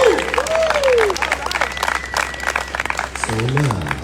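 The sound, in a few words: audience applause for speakers at a campaign launch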